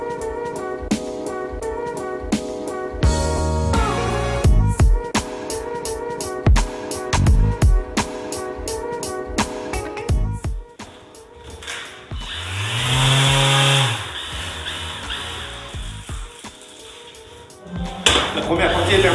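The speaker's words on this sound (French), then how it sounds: "je vais poncer toutes les poutres, là" A power sander works across wooden ceiling beams in a bedroom renovation, whirring in bursts broken by brief clatters and pauses, with a longer rising whine partway through; fairly close and moderately loud.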